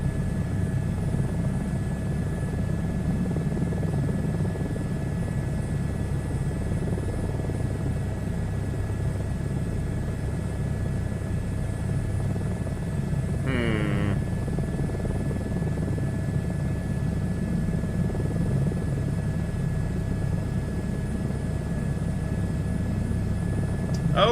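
Helicopter rotor and engine drone steadily in a flight simulator game, a constant close buzzing hum with a brief chirping tone partway through.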